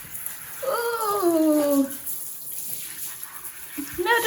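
Shower water running during a dog's wash, a steady hiss under a person talking and a high whining sound, loud and close throughout.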